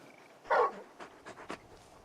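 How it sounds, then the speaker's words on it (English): Torgal, the very large dog in Final Fantasy XVI, gives a short, breathy huff followed by a few softer, quiet pants close by. "You're just a big puppy, aren't you? A very big puppy."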